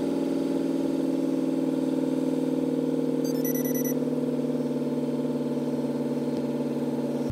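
A car engine idles steadily and evenly throughout, a close, constant low hum with a brief electronic chirp from a diagnostic scan tool partway through; no talking.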